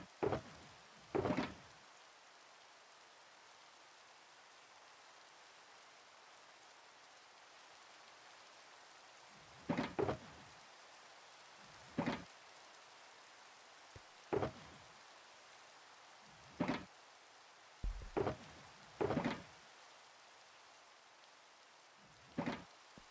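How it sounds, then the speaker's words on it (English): Rain falling in a Minecraft-style block-building video game, a quiet steady patter under a series of sharp, loud intermittent bangs and rumbles like thunder or doors, with no talk. "Finally, get rid of the rain."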